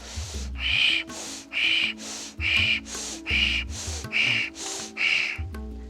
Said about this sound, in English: So this is how rapid Ujjayi breath sounds.